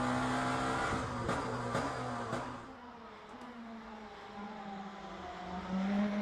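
Lamborghini GTP race car at Imola in Le Mans Ultimate, a high engine drone with rapid gear shifts, dropping in pitch under braking and then climbing again as it accelerates, close and continuous.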